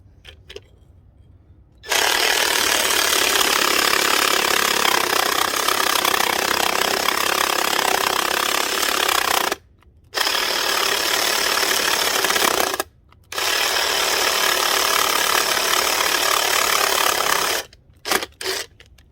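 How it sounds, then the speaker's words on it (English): A Sawzall reciprocating saw cuts through a metal sleeve on a van, a loud, steady, harsh buzz running in three long bursts separated by brief pauses. "And we're just going to do it with good old Sawzall."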